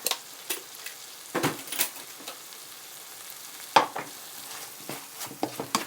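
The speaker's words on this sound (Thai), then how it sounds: "ผัดพอให้เขามีกลิ่นของ ซอสเนี่ยค่ะเกือบจะแห้งๆนิดนึง" Canned fish rice sauce stir-fried in a pan until nearly dry, a faint steady sizzle broken by scattered scraping and tapping strokes of a utensil against the pan, with no one talking.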